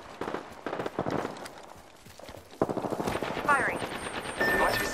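Rapid automatic gunfire in the Apex Legends battle royale game: bursts of close shots crackling in quick succession, pausing briefly before a heavier sustained volley, with sharp ricochet-like whines near the end.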